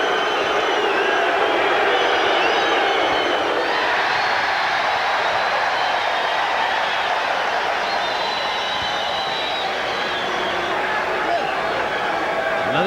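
A large basketball crowd roars steadily at Veterans Memorial Coliseum during a Blazers–Suns game, a continuous loud wash of cheering and murmur that holds for the whole stretch, with a commentator's voice faintly over it.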